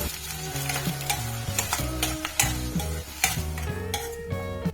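Onions, green and red chilies and curry leaves sizzle in a pan for Kerala-style kadala curry, a steady close frying hiss broken by repeated scraping stirs, with tonal background music running underneath.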